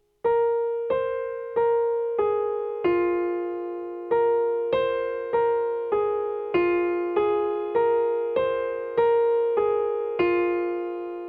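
A solo piano plays a slow melody in single struck notes, each ringing and fading before the next, evenly spaced and clear.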